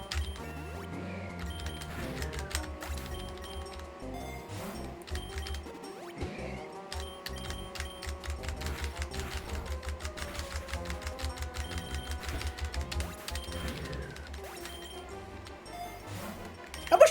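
Computer keyboard keys mashed during a PokeRogue gaming session, a steady stream of quick clicking taps in bursts and runs, fairly close, over quiet game sounds.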